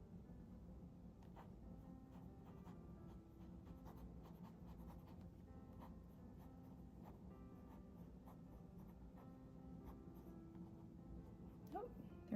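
A Platinum Preppy fountain pen lays ink on paper with soft, continuous scratching strokes, faint and close, while a person talks quietly over it.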